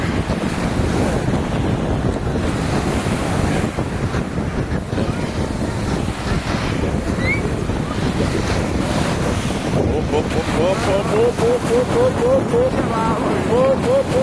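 Mediterranean sea waves wash onto a beach in the Macedonia region of Greece, a loud continuous surf roar mixed with heavy wind buffeting on the microphone, and a voice speaks over it.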